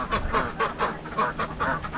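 Ducks quack repeatedly in a rapid, overlapping chorus, fairly close, with no talking.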